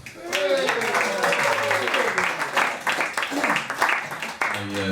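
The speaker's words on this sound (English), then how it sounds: "Please give them a round of applause." An audience at a hotel comedy night bursts into brief applause and cheering, loud dense clapping with a few whoops, while voices mix in over it.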